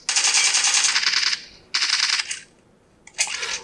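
Rapid bursts of automatic machine gun fire in a mobile shooter game such as PUBG or COD, three loud sustained volleys with short gaps between, with no talk during the shooting.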